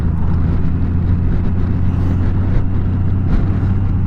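A 2021 Honda Goldwing on the move gives a steady low engine drone and wind rush, constant and even throughout with no speech.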